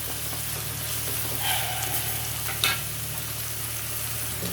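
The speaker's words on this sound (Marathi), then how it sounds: "कांदा आणि टोमॅटो अगदी नरम पडेपर्यंत आपल्याला ते व्यवस्थित फ्राय करायचं आहे." Onion and tomato fry in a pan for dry chicken liver masala, giving a steady, close sizzle with a few soft scraping stirs and a low background hum.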